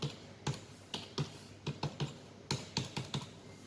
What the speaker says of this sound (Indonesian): Kita ketik saja admin.